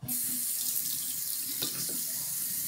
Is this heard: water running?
yes